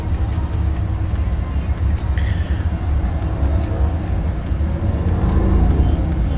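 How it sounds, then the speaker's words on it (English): A car drives past a home during a flight simulator session of a PMDG 737-900 flight, a loud broadband roar that holds steady and swells slightly near the end, with no talk. "it was just a car driving by"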